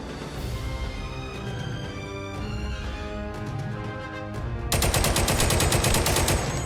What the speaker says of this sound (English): Then I repositioned for my second shot.